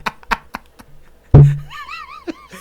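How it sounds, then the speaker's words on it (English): A head bumps against a microphone, giving one loud, close, boomy thud with a short low ring, set between scattered soft vocal sounds and followed by a brief voice. "That is the sound of me banging my head against my mic."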